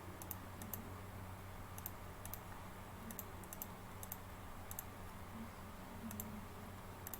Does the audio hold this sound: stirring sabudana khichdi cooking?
no